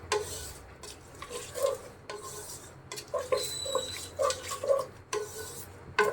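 Whole spices, including black pepper and cardamom, fried and stirred with onions in a pan for a beef and raw jackfruit curry; irregular scraping strokes and clinks of a utensil against the pan over a low sizzle, close, no voices.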